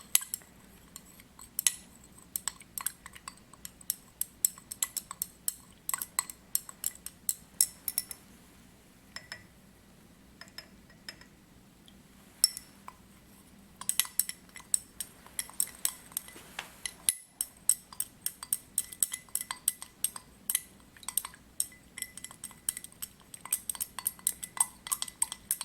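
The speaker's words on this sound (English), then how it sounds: "I want to stir a little bit too. Make sure we get some of that iron in there" Iron is stirred into a copper solution in laboratory glassware, making quiet, scattered glassy clinks and taps in irregular clusters over a faint background hiss.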